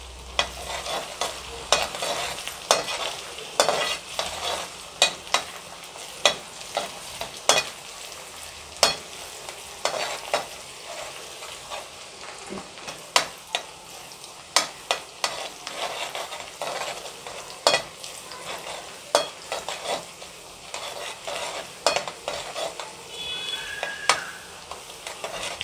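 Spicy Maggi masala sautés in a pan with a steady close sizzle, while a spoon scrapes and stirs in frequent sharp clicks throughout, with no talk.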